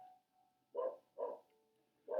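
A dog barks three times indoors in an office room, short evenly spaced woofs standing out against a quiet background.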